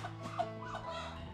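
Bantam hen clucking softly in a backyard flock, a few low throaty clucks mixed with background fowl noise, fairly quiet and close.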